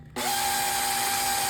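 A power drill whirs up abruptly and runs at a steady, loud pitch, close by and without pause.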